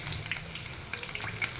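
Food frying in hot oil, a brief, soft, steady sizzle with scattered small crackles and pops.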